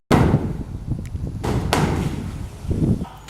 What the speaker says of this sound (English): They're knocking down the building next to us.